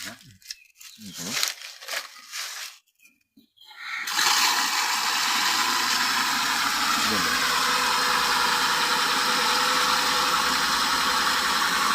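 A water-driven turbine generator spins up to a steady, loud, continuous whirring hum with a rising tone, after some earlier handling noise and clatter.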